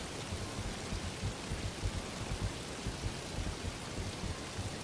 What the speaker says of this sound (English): Ah, the waterfall.